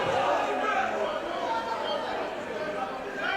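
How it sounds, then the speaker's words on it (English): Murmuring crowd chatter at a boxing event, a steady hubbub of many voices with speech mixed in. "Oh, it's all the people in the crowd,"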